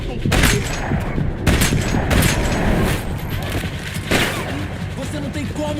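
Rapid bursts of gunfire in the video game Max Payne 3 crackle continuously with booming impacts, loud and dense, over a noisy background.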